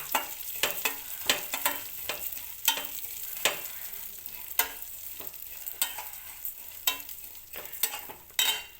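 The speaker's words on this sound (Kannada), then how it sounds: "ಈ ತುಪ್ಪ ಹಾಕಿ ಹುರಿದಂತಹ ಬಾಣಲಿಗೆ ಶಾವಿಗೆ ಹಾಕ್ಕೊಂಡು ಫ್ರೈ ಮಾಡ್ತೀನಿ" Vermicelli frying in ghee in a pan while it is stirred: a steady soft sizzle broken by repeated scraping strokes at an uneven rhythm, close by and with no talking.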